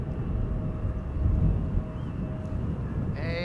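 A departing KLM Cargo Boeing 747 jumbo jet operated by Martinair Holland at Schiphol Airport roars as a steady, distant low rumble under wind noise, swelling briefly before holding level.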